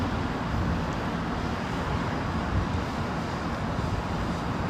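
Jet aircraft noise at London Heathrow Airport's runway 27L, a steady broadband roar holding at the same level throughout, with no voices.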